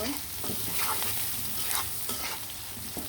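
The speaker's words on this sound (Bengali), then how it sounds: "পেঁয়াজ দিয়ে গরম মশলা দিয়ে ভালো করে লাড়াচাড়া দিয়ে দিব" Onions with garam masala sizzling in a pan while being stirred, a steady frying hiss with scraping strokes of the spoon scattered throughout, close and continuous.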